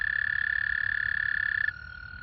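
Frogs croaking in spring, the first frogs of the season, a dense continuous high trilling chorus that steadies then drops slightly in pitch, with no talking.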